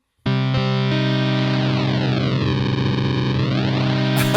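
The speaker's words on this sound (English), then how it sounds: "We've got a bit crusher." A sustained synth tone from a Bleass Megalit synthesizer runs through a bit crusher effect, harsh and gritty, with a sweeping digital tone that dips then rises again. It is loud and steady, with no voices.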